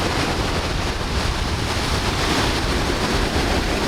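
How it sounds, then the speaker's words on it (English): Ocean surf off the Sardinian coast with wind buffeting the microphone: a loud, dense, continuous wash of waves and rushing air, steady throughout with no voices. "The waves look intense and there's really not that much wind."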